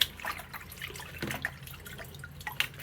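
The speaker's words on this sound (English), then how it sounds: "so I'll wash my leaves up." Leaves being rinsed with rainwater produce faint drips and light splashes scattered irregularly over a low background hum, with no voices.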